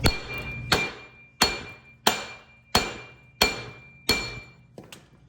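Seven sharp metallic hammer blows ring out at an even pace, about one every two-thirds of a second, each close and loud with a quick decaying ring, as a rear hub bearing is tapped out of a Ford Edge.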